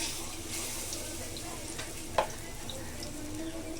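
Kolmi leaf fritters fry in hot oil, producing a soft, steady sizzle with a single sharp click midway.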